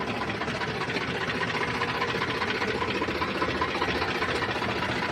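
A used tractor's engine idling close by, with a steady, even mechanical chugging and knocking rhythm and a constant vibrating drone for the whole stretch, no talk over it.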